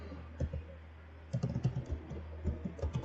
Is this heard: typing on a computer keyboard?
yes